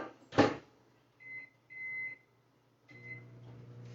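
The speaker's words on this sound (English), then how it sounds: "So we're gonna put this in the microwave. Start out 5 minutes." Microwave oven set to melt semi-sweet chocolate: a sharp door thud, a few short keypad beeps, then a low steady hum as it starts running.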